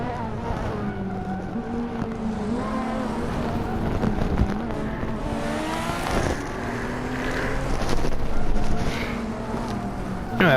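Old-timey Grand Prix race cars in a Hot Wheels video game, engines droning and revving steadily with rising and falling pitch, a continuous close racing roar throughout.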